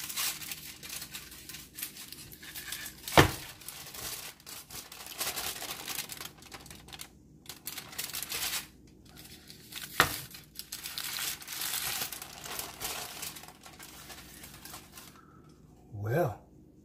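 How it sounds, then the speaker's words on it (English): Aluminum foil is pulled off and crumpled in a kitchen while preparing king oyster mushrooms as BBQ ribs, giving a steady broadband crinkling rustle with a few sharp snaps and a louder crush near the end. "2 pieces of aluminum foil I probably can use later."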